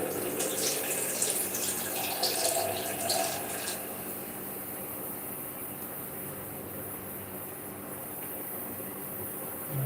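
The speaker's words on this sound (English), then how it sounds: "So I need to add some water to the rice still." Water is added to a pot of rice cooking on a stove, giving a steady, close pouring rush, louder over the first few seconds and then a softer continuous flow.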